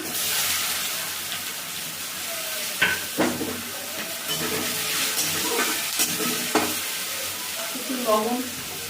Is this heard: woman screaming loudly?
no